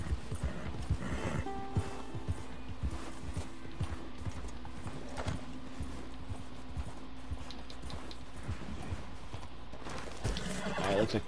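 Rhythmic hoofbeats clip-clop steadily throughout, with an occasional whinny, from a horse on a mountain in Red Dead Redemption 2; no talking.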